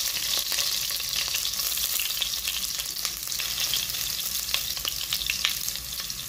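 Onion and garlic sautéing in a pan for a Filipino pork soup, a steady close sizzle with scattered small crackles and pops throughout, with no talking.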